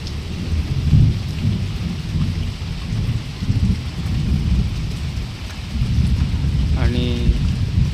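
Heavy rain pours steadily on a farm beside a poultry shed, with low rumbling thunder rolling through it, loud and continuous for the whole stretch.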